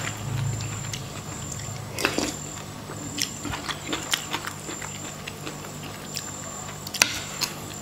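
Wet, smacky chewing sounds from someone eating catfish curry with bamboo shoots, soft irregular mouth clicks and smacks close to the microphone over a faint background hum.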